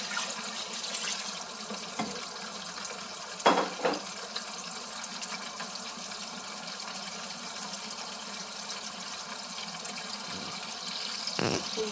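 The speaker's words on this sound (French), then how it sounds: "Après 5 minutes, on va rajouter de l'eau." Water pours from a tap into a pot of washed rice for a fragrant rice dish, a soft continuous trickle with a few brief louder splashes, heard close and fairly quiet.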